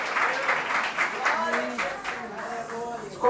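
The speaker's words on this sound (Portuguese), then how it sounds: "Você pode aplaudir ao Senhor mais uma vez" Church congregation applauding during a worship service, a sustained wash of clapping running under a voice speaking over it, with the clapping swelling again briefly at the end.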